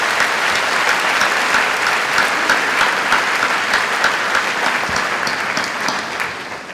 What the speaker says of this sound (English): So let's take a moment to applaud all of those people in your lives who've helped get you here.